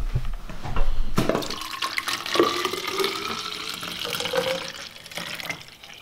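Tap water runs into a reusable water bottle, a steady splashing stream with a few bumps and clinks of the bottle, heard close and alone.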